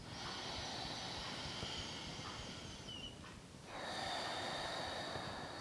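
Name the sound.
slow breathing through the nose with a constricted throat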